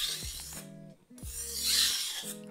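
A kitchen knife is stroked across a sharpening stone in two gritty, rasping passes with a brief pause between them. The scraping is close and fairly quiet, and a faint tonal ringing hums underneath.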